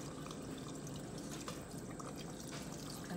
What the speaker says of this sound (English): So pouring that brine on and over the pickles.